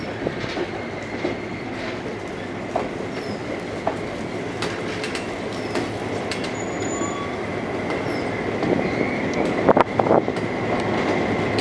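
A freight train rolls past close by, a continuous rumble of rolling cars with rhythmic clickety-clack and faint wheel squeal building toward the end.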